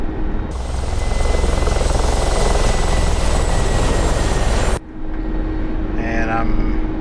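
Mi-24 Hind attack helicopter in DCS, its turbine engines and rotor roaring loud and steady with a high whine, a brief dip in level partway before the drone resumes, while someone talks over it.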